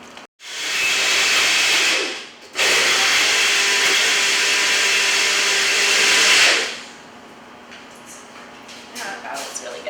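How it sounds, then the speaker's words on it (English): Blender whirring a smoothie made with almond milk in a kitchen, a loud steady roar that stops briefly, restarts and runs several seconds before cutting off, leaving quiet room sound. "So now I'm going to walk back to my blender and blend it up"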